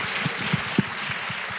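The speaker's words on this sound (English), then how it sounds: "I'd like to give him a round of applause, too." A brief round of applause from a panel event audience, steady clapping with a few sharper claps rising out of it.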